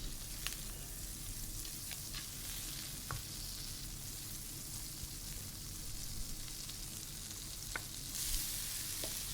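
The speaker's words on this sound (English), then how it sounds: "so we can start roasting our onions. In a knob of butter, in 2 knobs of butter" Onions roasting in two knobs of butter for moussaka, a soft, steady crackling sizzle heard close and fairly quiet, with occasional light pops and ticks.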